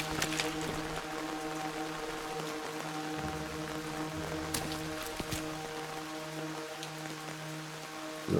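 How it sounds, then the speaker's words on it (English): Steady rain in the video game We. The Revolution, an even hiss of drops on surfaces running throughout, with a low droning background tone underneath and a couple of brief sharper ticks. "Walking in the rain?"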